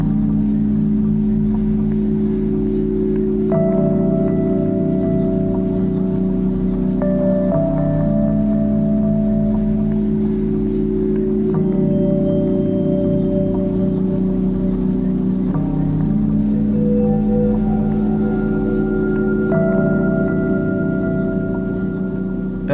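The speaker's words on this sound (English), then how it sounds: "That sound is like the breath of our galaxy." Milky Way electromagnetic waves converted into sound, a steady droning hum with a low rumble beneath and slowly shifting sustained tones rising and falling over it, continuous and even throughout.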